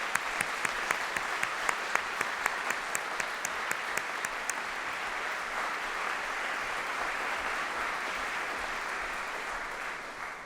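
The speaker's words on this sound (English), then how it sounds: "So a round of applause to our prize." Audience applause for prize winners at a university graduation ceremony, a steady roar of many hands clapping that starts with a few sharp distinct claps and swells into dense continuous clapping for about ten seconds.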